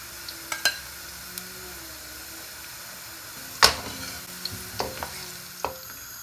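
Onions for a kofta meatball curry fry in hot oil with a steady low sizzle, and a few scattered clinks and scrapes sound from the pan, one louder knock near the middle.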